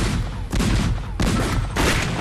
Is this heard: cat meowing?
no